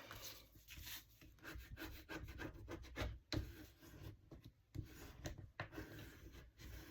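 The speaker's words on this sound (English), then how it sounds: "Really burnish that fold, just like that." A paper fold is burnished to form journal pockets: quiet, close rubbing and scraping strokes in irregular bursts, with no voices.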